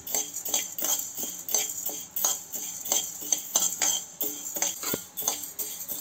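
Rice, chana dal, urad dal and whole spices dry-roasting in a pan for palya pudi, a spoon scraping and clinking against the metal in quick rhythmic strokes, close and fairly loud, with no voices.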